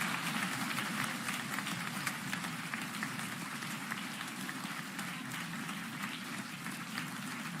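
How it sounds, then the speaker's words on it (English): Audience applause at the 34th Ig Nobel Prize ceremony, a steady, dense wash of clapping from a large crowd that holds at an even level throughout with no break. "Everyone, please give them a square of applause."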